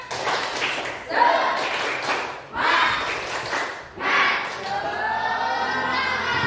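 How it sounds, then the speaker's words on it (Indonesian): A classroom of students does a rhythmic spirit clap in repeated bursts of loud group clapping, with short pauses between rounds and voices mixed in. "Tepuk semangat."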